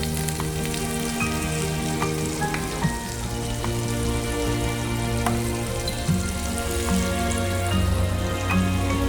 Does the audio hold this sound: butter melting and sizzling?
yes